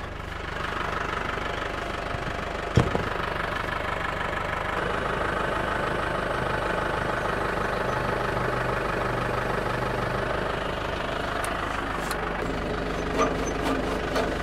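A tractor engine runs steadily with a mower attached, a continuous low, knocking idle rumble heard close and fairly loud, with a couple of brief clanks.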